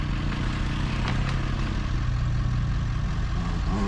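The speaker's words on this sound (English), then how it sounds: "Watch, motorcycle." A motorcycle engine rumbles steadily nearby on the Peters Mill Run off-road trails in Edinburg, Virginia, a low droning that holds for several seconds without people talking.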